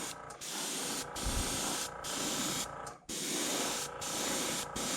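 Spray paint hisses through a worn, paint-caked mesh onto a fishing lure in steady close bursts with a few short pauses between sprays.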